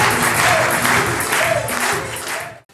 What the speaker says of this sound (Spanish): Dame un fuerte aplauso a nuestro Señor Jesús.